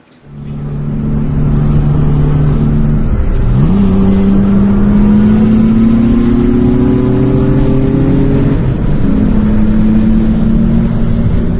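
A twin-turbo Nissan 300ZX engine roars close by as it accelerates hard, its pitch climbing steadily and dropping briefly at each gear change before rising again.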